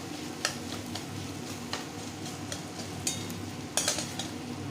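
Salted mashed potato (alu chokha) frying in a pan: a faint, steady sizzle with occasional light taps and scrapes of a spatula, no voices.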